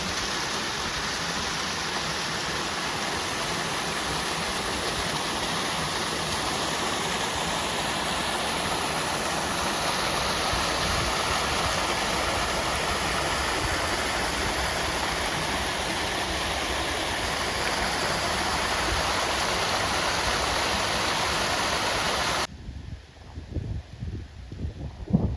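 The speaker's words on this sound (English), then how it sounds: "You can see it flows down into that pond where that little waterfall was." A small stream pours steadily over a little waterfall into a pond beside a lake: a constant, broadband rushing splash that holds for over twenty seconds, then cuts to quieter ambient noise near the end.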